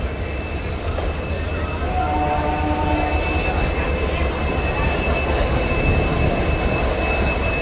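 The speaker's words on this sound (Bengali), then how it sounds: "বৃষ্টি ভেজা একটা দুপুরে ট্রেন রামপুরা স্টেশন ছেড়ে বেরিয়ে যাচ্ছে" A passenger train hauled by an EMD locomotive pulls out of Rampurhat station in steady rain, giving a continuous loud rumble and rattle of wheels with a faint tonal whine running throughout.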